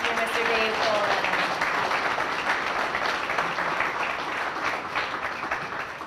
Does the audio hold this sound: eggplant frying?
no